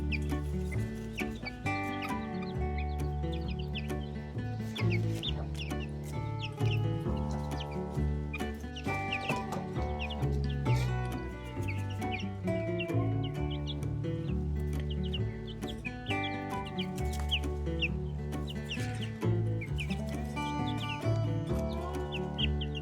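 A broody hen clucks steadily among her chicks, with soft peeps and chirps layered through a continuous, moderately close flock chatter.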